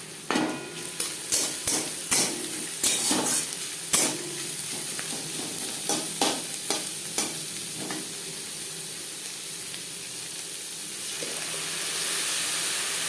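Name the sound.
frying onions with crushed garlic in a pan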